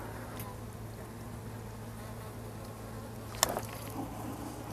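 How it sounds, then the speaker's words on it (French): Asian hornet flying in front of a beehive in September, a faint insect buzz over steady background hum, with a brief sharp knock partway through. "il y a un frelon asiatique qui est juste devant"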